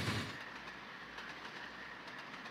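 Steady running noise from the LNER Gresley P2 steam locomotive William Wallace in Trainz, a continuous rail rumble with light periodic clickety-clack from the wheels and a slightly louder start, no voices present.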